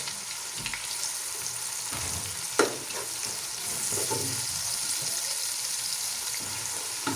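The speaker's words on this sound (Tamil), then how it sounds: "இப்போ இஞ்சி பூண்டு பேஸ்ட் நல்லா வதங்கி கொண்டிருக்குது." Ginger garlic paste sautéing in a pan for chicken rice gives a steady, close sizzle throughout, with occasional scraping stirs and one brief clatter of a utensil; nobody speaks.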